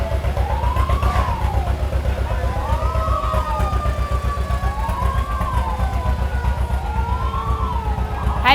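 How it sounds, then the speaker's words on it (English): A Cabarrus County ambulance in a July 4th parade in Harrisburg sounds a loud wailing siren that rises and falls in slow regular sweeps, over a steady low engine rumble. "I see one of our Cabarrus County ambulances coming up."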